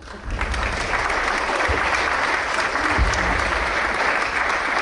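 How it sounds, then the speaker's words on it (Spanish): An audience applauds a speaker at a talk on being a woman under Franco, a dense, even wash of clapping that swells in quickly and holds steady for several seconds. "un aplauso para ella"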